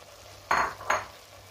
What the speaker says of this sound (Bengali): টমেটোগুলো দিয়ে দিচ্ছি।